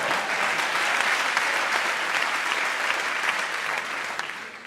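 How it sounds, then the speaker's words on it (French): An audience at a French comedy show breaks into sustained applause, a dense, even clatter of many hands that holds steady and tapers slightly at the end. "On applaudit Bertrand, on applaudit Bertrand."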